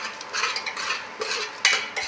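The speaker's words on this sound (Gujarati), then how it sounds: "હવે બરોબરનું મિક્સ કરી નાખ્યું." A spoon stirs and mixes aubergine curry in a metal pot, with steady scraping and clinking strokes and a sharper knock near the end, close and with no voices.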